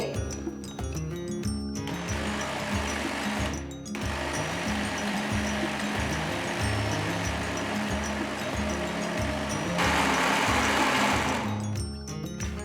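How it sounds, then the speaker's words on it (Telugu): A kitchen mixer grinder churns bottle gourd dosa batter, a steady loud motor whir with rhythmic rattling, briefly pausing and restarting, close and alone without talk. "సో బాగా రుబ్బేశాను నేను పిండిని"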